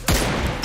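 A rapid burst of gunfire from the video game PUBG Lite, short, loud and close, over in under a second.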